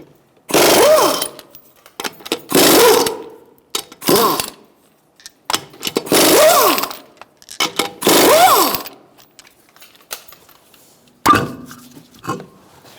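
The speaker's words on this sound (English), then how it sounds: "Using a 21mm socket, I'm going to take off the front wheel." An impact gun with a 21mm socket zips off the front wheel lug nuts of a 2012-2017 Hyundai Accent 1.6L, a series of short, loud bursts with brief pauses between them.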